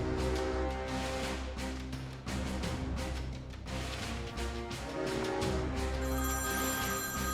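Telephone ringing in the video game Beholder, a loud repeated electronic ring pulsing steadily over layered tonal game sound, without any talk.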